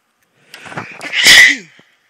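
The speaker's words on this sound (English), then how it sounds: "Had to sneeze." A single loud sneeze close by, a short intake of breath building into a sharp burst, then quiet.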